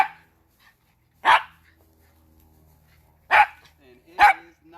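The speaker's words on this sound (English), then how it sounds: "and Thunder is barking his tail off" A dog barks outdoors in sharp single barks, three spaced out over a few seconds, fairly loud and near, with quiet pauses between them.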